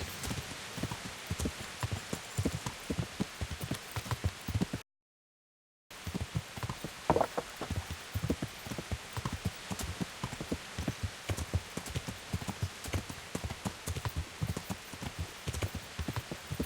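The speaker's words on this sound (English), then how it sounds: "Well, this horse is a fair speed." Horse hooves galloping in the video game Kingdom Come: Deliverance, a steady rapid clip-clop rhythm along a road with a soft rain-like wash behind it, interrupted by a brief silent gap.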